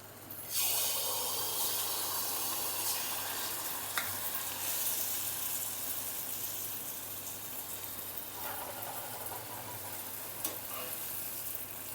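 Appam batter sizzles in hot oil for a Karthigai Deepam special, a steady, moderately faint bubbling hiss that starts abruptly and holds, with a couple of light clinks along the way.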